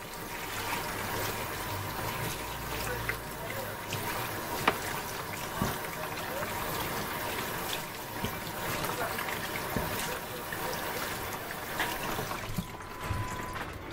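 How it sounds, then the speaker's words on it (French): Running water rinses the inside of a freshly gutted fish, a steady, close splashing wash that continues evenly for the whole stretch with small irregular spatters. "je vais utiliser l'eau pour rincer"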